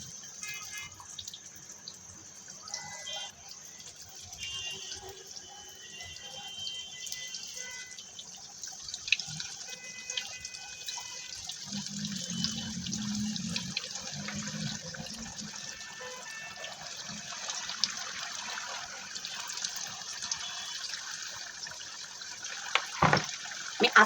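Onion pakoras (piyaju) fry in oil over a low-medium flame, giving a steady, soft sizzle and hiss with occasional faint pops throughout, and no voices.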